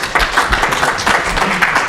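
An audience at a conference talk applauds briefly, a dense burst of clapping from many hands, close and fairly loud.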